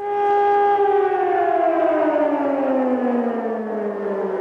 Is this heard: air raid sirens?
yes